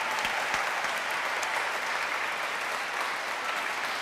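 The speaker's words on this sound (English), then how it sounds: "to applaud this great team." Applause from students and staff at a school NAIDOC assembly, a steady, even roar of clapping hands filling the whole space with a few sharper claps standing out, no voices over it.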